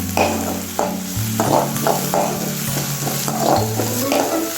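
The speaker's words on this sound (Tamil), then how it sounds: "இப்போ வெங்காயம் நல்லா வதங்கிடுச்சு" Onions and green chillies being sautéed in a pan for Bombay chutney, with steady sizzling frying and repeated scrapes and knocks of a spoon stirring against the pan, close and loud with no talk.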